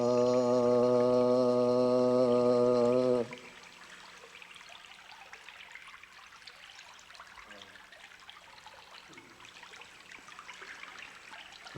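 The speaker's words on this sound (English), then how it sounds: "Tamura is the sound of this creek" A creek flows in a steady, soft trickle close by, continuing alone for several seconds after a loud sustained musical drone cuts off abruptly.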